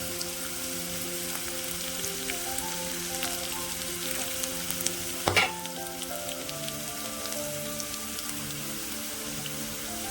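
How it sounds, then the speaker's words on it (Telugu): Cumin, mustard seeds and curry leaves sizzle in hot oil for lemon pulihora, giving a soft, even crackle with a short louder spatter burst midway. Steady low background hum, no talking. "జీలకర్ర కొద్దిగా, ఆవాలు కొద్దిగా యాడ్ చేసుకున్నాను. కొంచెం కరివేపాకు"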